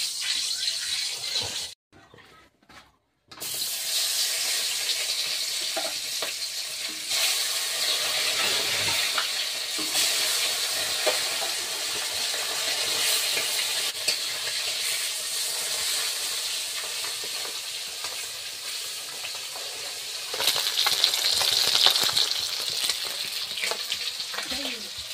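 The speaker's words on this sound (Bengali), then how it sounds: "এখন তেলটা নাড়াচাড়া দিয়ে মাছটা দিয়ে নেব" Fish frying in hot oil in a wok, cooked outdoors in the Sundarbans after being caught: a steady, loud sizzle and hiss that runs throughout, broken by a brief drop near the start and growing brighter toward the end.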